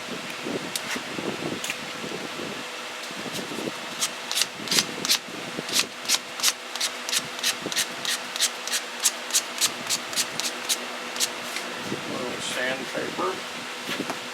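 Sandpaper rubbing a wooden pen blank being shaped into a whistle, heard as a run of quick, even scratchy strokes close by, with quieter rustling before and after.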